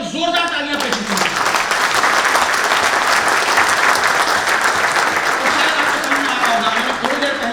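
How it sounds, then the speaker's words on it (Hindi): A large audience at an Indian paint association gathering applauds loudly in honour of their mothers, the roar of clapping rising quickly after a voice at the start and holding strong and even throughout. "एक बार अपनी अपनी मां के नाम पर जोरदार तालियां पेश कीजिए।"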